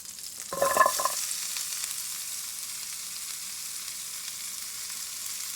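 Teriyaki chicken and vegetables hit a hot pan for a stir fry, with a brief clatter as the food drops in and then a steady soft hiss of sizzling frying close by.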